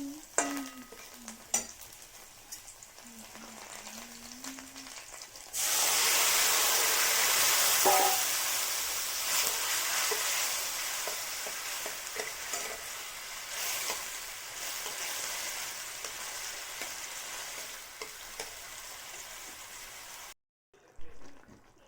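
Bottle gourd with poppy seed paste cooks in a pan, first with quiet stirring and scraping, then a strong, steady sizzle that starts partway through and slowly fades until it cuts out near the end; a voice speaks briefly early on.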